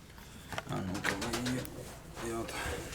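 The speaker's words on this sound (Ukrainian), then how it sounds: "Ось така от голубенька." Soft, low cooing of a small red-mottled hen pigeon in short repeated phrases, close by, with a voice speaking quietly alongside and some rustling.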